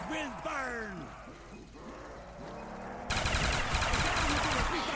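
Rapid gunfire from a zombies video game, loud and sustained in the second half, with game sounds and moaning-like tones before it.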